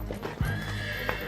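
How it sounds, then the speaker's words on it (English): A horse gives a short whinny over a few clip-clopping hoofbeats, close and clear with no speech, the kind of sound heard around horse racing. "horse racing"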